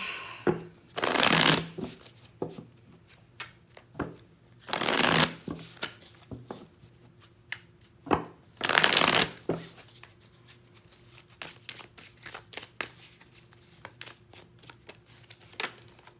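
Tarot cards shuffled by hand in three loud bursts of riffling, each about a second long, separated by quieter card handling and soft taps, close up with no talking.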